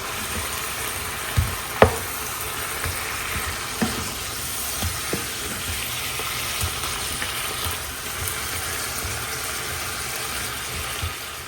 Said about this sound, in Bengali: মশলাটা কষাই করছে, এখন মাছগুলো দিয়ে দিই।